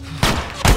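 Two sharp gunshots in The Last of Us video game ring out about half a second apart, loud and close, with a short echo after each.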